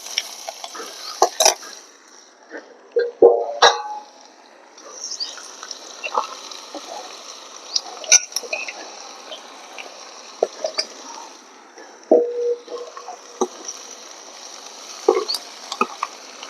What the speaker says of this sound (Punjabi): ਆਲੂ ਤੇ ਗੰਡੇ ਫਰਾਈ ਹੋ ਗਏ ਹੁਣ ਆਪਾਂ ਭਿੰਡੀਆਂ ਪਾਵਾਂਗੇ